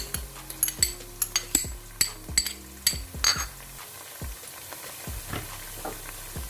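Ginger paste sizzles and fries in a hot pan while a spoon clinks and scrapes in a quick run of strokes, then the frying settles to a softer crackle.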